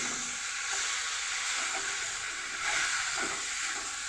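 Spices and raw green tomato being sautéed in a pan for small-fish chorchori, a constant steamy sizzle and hiss with a few faint stirring scrapes, no voices.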